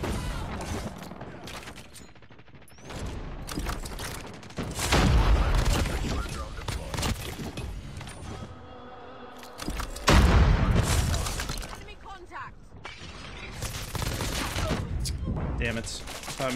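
Bursts of rapid assault rifle fire from a video game, the BP50 in ranked play, crackle in repeated volleys with booming impacts, loud and close, interspersed with quieter gaps.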